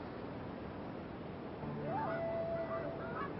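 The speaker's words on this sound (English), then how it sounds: "Aleutian Canada geese were believed to have disappeared" Aleutian Canada geese honk faintly over a steady background hiss, a short burst of calls arriving partway through.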